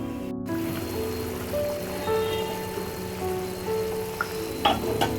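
Hilsa fish curry broth made with shola kochu (taro) boils steadily in a pot, a soft continuous bubbling and rushing hiss at low volume with no talking.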